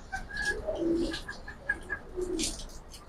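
Pankhi and silver pigeons in a loft give a few low, rolling coos with faint chirpy notes, close by and fairly quiet over a short stretch.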